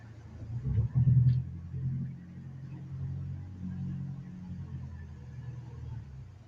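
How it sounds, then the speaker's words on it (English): A car pulling in and parking on a residential street at night, heard as a low engine rumble that swells briefly near the start and then settles into a quieter, distant hum. "Listen to the Linda Lane at this time when this car drives into park."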